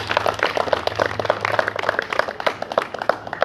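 An audience claps continuously for a few seconds at a National Science Day event, a dense, steady patter of many hands close by, with a faint low hum underneath.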